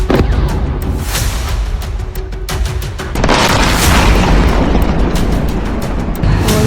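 Explosions from air strikes on military sites in southern Iran: a continuous loud, roaring rumble of blasts with rolling booms, swelling heavier about midway and staying dense to the end, with no voices.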